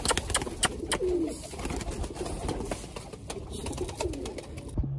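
Pigeons coo softly while a male chases off a female among birds being fed millet. Low rolling coos recur over a steady background bustle of fluttering and pecking.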